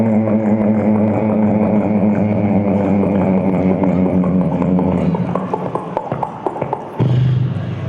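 A voice imitates a galloping horse, with rapid rhythmic clip-clop beats close up, ending in a few sharper clicks and a brief whinny-like hum, performed on stage at a company anniversary event.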